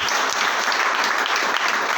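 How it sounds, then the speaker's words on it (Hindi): Loud, dense applause from an audience at a motivational business speech event in Gujarat, steady and sustained throughout with no talk over it. "एक जोरदार ताली दिया।"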